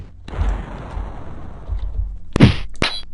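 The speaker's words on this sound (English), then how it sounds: "That is the sound of exploding." A spell explodes in the video game Elder Scrolls Arena, heard as a sharp, bright burst with a short crackling tail, followed by a second loud hit a moment later, over low rumbling game ambience.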